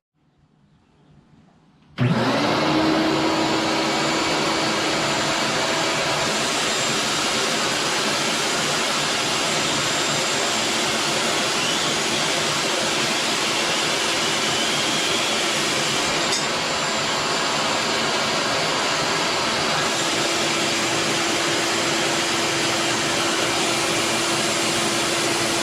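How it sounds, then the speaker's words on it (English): A vacuum switches on abruptly after near silence and runs steadily, drawing water out of a bathroom water line during winterizing, a loud continuous whine and rush with a slight shift in pitch partway through. "I'll go ahead and turn the vacuum on."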